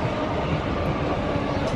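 Trains at Clapham Junction station in London, services running to and from Milton Keynes, give a steady, close, broadband rumble of rolling stock that holds evenly throughout without any voices.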